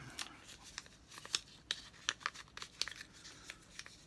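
120 film, Kodak Portra 400, being peeled out of a Pentax 6x7 camera, with faint, sparse crinkling and tearing rustles of the paper backing, heard up close in an otherwise quiet room.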